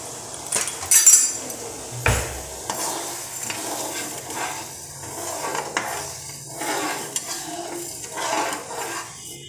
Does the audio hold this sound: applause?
no